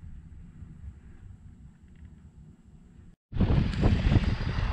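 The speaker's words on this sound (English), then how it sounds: "Well, looks like we finally got a little wind." Gusty outdoor wind buffets a microphone beside a homemade car alternator wind turbine, starting as a low rumble, dropping out briefly, then returning as a much louder, close roaring blast.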